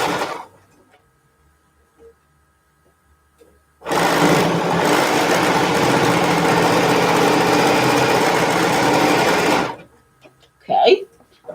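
Domestic sewing machine stitching a quarter-inch seam on a quilted pillowcase, a loud, fast, steady whir running about six seconds after quiet handling noises, then stopping before a short voice.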